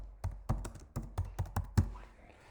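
A name being typed on a computer keyboard, about eight distinct, fairly close key taps in an uneven rhythm, each one sharp and clear against a quiet room.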